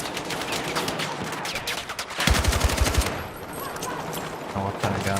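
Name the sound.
DMR rifle gunfire in a video game, likely Halo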